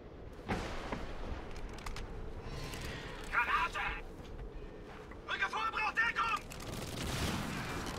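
Weapon fire in the first-person shooter Crysis Warhead comes in a few short bursts and shots over low game ambience while someone talks.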